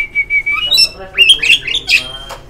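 Songbirds squawking and whistling up close inside a bird market warehouse, with sharp calls in irregular bursts and a voice faintly underneath.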